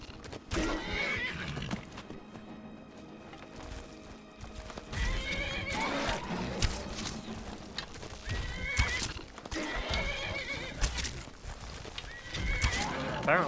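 Hooves clip-clop in a fast galloping rhythm while a horse neighs loudly several times in the video game Skyrim, with occasional faint talk underneath.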